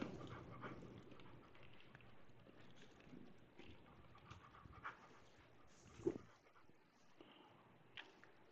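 An anxious, restless dog whose sedatives fail to calm her pants in steady, breathy bursts that run throughout, fairly close and moderately loud, with a few sharper snuffs and movements.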